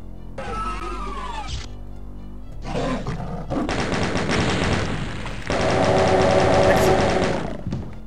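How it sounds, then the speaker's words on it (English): A series of loud, booming explosions and blasts in The Ultimate Doom, with roaring bursts that build and overlap through the second half, no talking. "More explosions."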